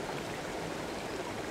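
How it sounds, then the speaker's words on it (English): Steady rushing water flows in the video game Open Country, a continuous even wash of moderate level with no talk over it. "find the valve control and stop the flow of water"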